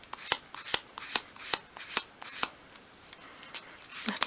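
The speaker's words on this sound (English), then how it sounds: "using a piece of fine grade paper at a 45-degree angle, just sweep it along" Fine grade sandpaper sweeps along the edge of a small piece of wood at an angle for a 1/12th scale miniature filing cabinet, making quiet, rhythmic scratchy strokes, about two per second, close up with no talk.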